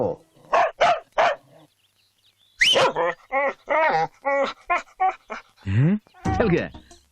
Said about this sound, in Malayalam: നായക്ക് ആളെ പരിചയമില്ലാത്തതുകൊണ്ടാണ് ഈ കുര